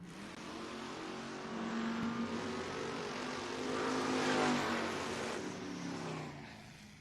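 Drag race pass by a 1968 Plymouth Valiant and a Ford Mustang, a sustained loud engine roar building in the middle and fading toward the end, heard from a distance across the strip.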